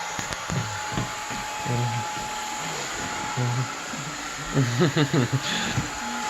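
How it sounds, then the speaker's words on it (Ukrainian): A hair dryer dries freshly washed hair with a constant close, whining blow throughout. Voices talk intermittently over it. "мама помила голову, а синочок її сушить"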